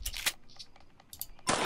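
Gunshots in the horror video game Granny: Chapter Two, a few sharp, fairly quiet bursts, two close together at the start and another louder shot near the end, with faint game ambience between.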